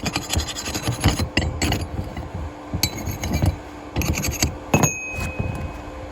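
Weld spatter being scraped and chipped off a flux core weld bead made with a Titanium Flux 125 welder, giving repeated rasping, gritty scrapes and metallic clinks in uneven bursts, close up with no talking.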